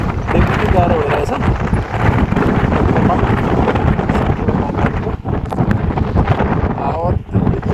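Heavy wind sweeps the exposed ridge at Temke Dada, Nepal, with a dense, unbroken rumbling roar of gusts striking the microphone close up and a voice speaking beneath it.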